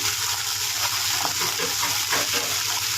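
Water pours steadily into a pan of fried onions for upma, a continuous close gushing splash with no talking.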